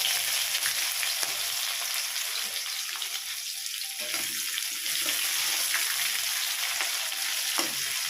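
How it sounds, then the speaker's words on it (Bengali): Chopped onions fry in oil with a bay leaf, dried red chillies, cardamom, cinnamon and cloves for a mutton and potato curry, giving a steady, close sizzle with occasional stirring clatter and no talking. "পেঁয়াজটাকে আমি একটু বাদামি কালার করে ভেজে নেব।"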